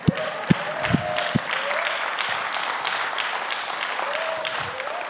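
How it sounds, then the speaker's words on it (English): A church congregation claps hands during a sermon: a few loud, separate claps at the start, then sustained crowd clapping that settles into a continuous, moderately loud wash for several seconds. "I think I'll clap my hands for that one."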